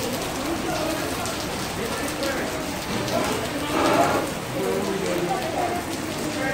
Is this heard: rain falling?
yes